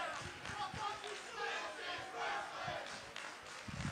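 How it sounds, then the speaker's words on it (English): A wrestling arena crowd cheers and roars in the distance, a fairly faint, swelling wash of voices with a few sharper shouts rising out of it. "Well, this crowd's all into it."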